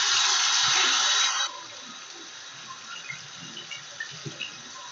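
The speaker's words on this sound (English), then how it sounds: "pour another 32 ounces of water" Water pours loudly into a container in a dense splashing rush for about a second and a half, then cuts off. Light drips and small trickles follow in a quieter, uneven pattern.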